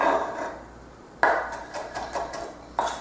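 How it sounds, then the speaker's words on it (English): A knife taps repeatedly against a cutting board, roughly chopping capers in quick, uneven chops, close and fairly crisp, with no talking. "what we're doing here is just we're roughly chopping it"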